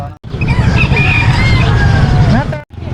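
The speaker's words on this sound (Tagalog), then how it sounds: "Manok." A rooster crows loudly close by in one long, strained call amid background chatter and outdoor noise at a livestock market in Calasiao, Pangasinan.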